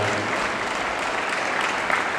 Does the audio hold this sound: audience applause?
yes